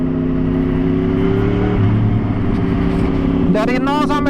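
A 2014 Yamaha R1 GP Edition sport motorcycle accelerating hard, a steady loud engine drone rising in pitch, with a sharp rev climbing near the end.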